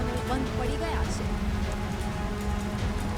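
Heavy, unrelenting monsoon rain falls in Porbandar, Gujarat, flooding roads and grounds. A steady, dense hiss of downpour runs throughout, with a voice talking over it.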